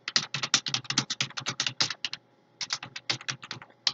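Rapid typing on a computer keyboard, a dense run of close, crisp key clicks with a short pause midway before the tapping resumes, no talking.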